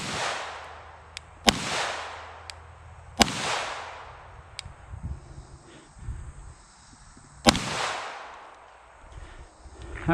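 Gunshots are fired at a concrete wall outdoors, several sharp, loud cracks spaced a few seconds apart, each followed by a short decaying echo, with faint movement between them.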